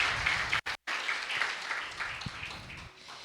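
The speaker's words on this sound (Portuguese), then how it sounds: "Então aplauda Ele, porque Ele merece" A church congregation applauding during a Portuguese-language worship service, steady clapping with a brief dropout near the start, fairly quiet overall.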